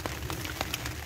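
Heavy rain patters on a plastic sheet stretched over people in a small boat in the Danube Delta, a faint, steady wash of drops with a few slightly stronger splashes.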